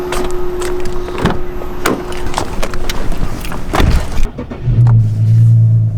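A car rolls along the road with steady engine and tyre rumble, occasional knocks and clicks, and a low hum rising near the end.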